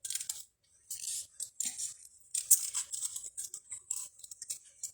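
Scissors snip through paper, cutting out printed words for a handmade card: close, crisp rustling cuts in irregular bursts with short pauses, alone and without talk.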